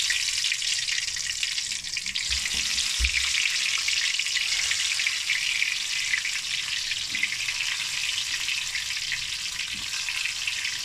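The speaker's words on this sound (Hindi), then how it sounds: "अब हमने कढ़ाई में जो है वो ऑयल लिया है, हम जो है टिंडे इसमें ऐसे शामिल करते जाएंगे 1 बाय 1" Stuffed tinda (round gourds) frying in oil in a kadhai give a steady, dense sizzle throughout, with a brief low knock near the start and no talking.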